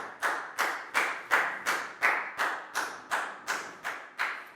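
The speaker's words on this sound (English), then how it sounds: "High five and a big round of applause for Pak Bung," A small group in a Year 4 classroom claps in unison for a student, about eleven sharp, evenly spaced claps in a steady rhythm, close and moderately loud, with no talking.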